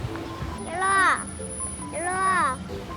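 Parrots at a large wildlife zoo in China give two loud, harsh, rising-and-falling squawks about a second apart, heard close from a self-drive tour vehicle over a steady high whine and low background rumble.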